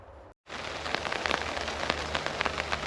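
Rain falls on a tent roof at a campsite: a steady, close patter with sharp individual drop hits, broken by a brief near-silent gap at the start.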